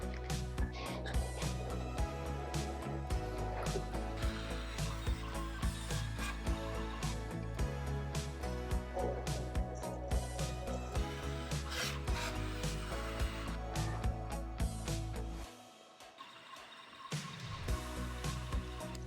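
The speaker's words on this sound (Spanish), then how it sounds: "Esta es la última máquina que ha seguido cortando." Several sticker cutting machines, Cricut and Cameo among them, cut at once, making a dense, steady rasping and rubbing whir that drops out briefly near the end before resuming.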